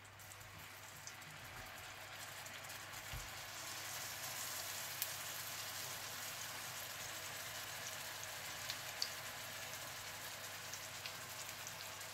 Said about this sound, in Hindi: इसके बाद आप इन्हें बिल्कुल हल्की आंच पर फ्राई कर लीजिएगा ताकि ये अच्छी तरह से पक जाए।